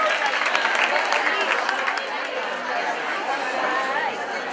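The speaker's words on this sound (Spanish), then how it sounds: "Un fuerte aplauso." An audience at a children's Christmas festival claps for a group of young dancers, a steady dense patter of applause mixed with crowd chatter throughout.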